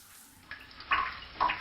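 Faint running shower water, a soft steady hiss that swells twice in brief splashing surges, quiet and close with no talk.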